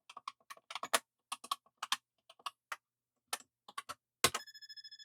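Uneven bursts of clacking keystrokes on a 1985 VTech Type-Right pre-computer typing tutor keyboard, loud and close, ending in a brief electronic beep tone.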